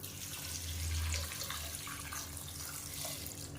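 Water streams steadily into a pot of tomato rasam, a close, continuous pouring splash heard on its own at moderate loudness, without talking.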